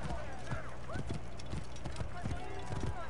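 Horse hooves clip-clop at a steady trot in Assassin's Creed Origins, with a few irregular thuds over a busy game background while someone talks over them.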